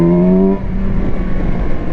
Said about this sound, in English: I do like the way the engine sounds.